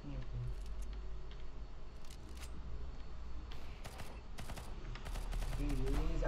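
Gunfire from a gun in an emulated video game, bursts of sharp shots scattered over a low background hum, with some talk.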